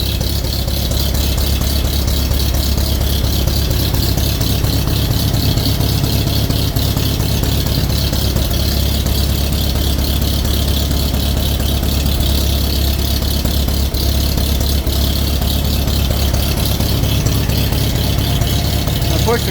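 A 1941 Farmall M tractor engine idles steadily after a cold start, a loud, continuous low rumble with a fast rattling chug that holds unchanged throughout.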